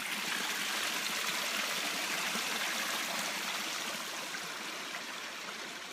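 A mountain stream near waterfalls rushes steadily outdoors, a dense, even wash of flowing water with no voices.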